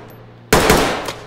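Gunfire in the tactical shooter Ready or Not, a sudden loud burst of rapid close shots that cuts in from near silence and rings out with a rolling echo.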